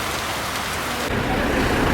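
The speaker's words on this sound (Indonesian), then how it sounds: "ternyata juga hujan mulai turun dan makin lama semakin deras" Rain falling steadily and growing heavier on Lake Toba, a dense broadband hiss that thickens and grows louder partway through, with no voices.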